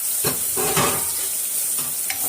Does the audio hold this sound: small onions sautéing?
yes